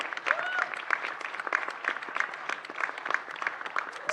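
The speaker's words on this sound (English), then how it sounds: "Can we have her on stage while we give her a huge round of applause?" Steady clapping from an audience at a stage event as a guest is welcomed on, dense and continuous at moderate loudness, with some cheering voices mixed in.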